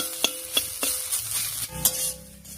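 A utensil scrapes and stirs taro stems in a wok in several sharp strokes over a continuous frying sizzle.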